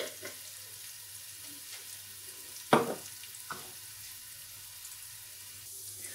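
Mutton pieces fry with turmeric in a pot, a low, even sizzle punctuated by a sharp metallic clank and a softer knock of the spoon partway through.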